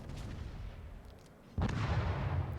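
A warship's main battery in World of Warships fires a shot, a sudden loud boom that cuts in partway through and rumbles on heavily over quieter battle ambience.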